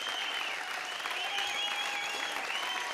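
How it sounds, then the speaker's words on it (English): A big concert crowd applauds and cheers, with dense continuous clapping and a high whistle-like tone sustained over the roar for the whole stretch. "The crowd goes wild."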